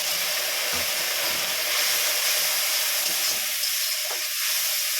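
A spice paste of chilli powder, cumin and coriander sizzles and hisses in a pan after a splash of water for a fish curry, a loud, continuous close-up fry with faint stirring scrapes.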